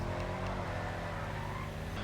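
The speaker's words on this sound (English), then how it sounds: "I love the exhaust note of this car. It just sounds really, really good." A steady, throaty engine drone runs throughout, low and continuous, like a car's exhaust note held at a constant rev with no other sounds on top; a Benefactor Schlagen GT sports car in GTA Online.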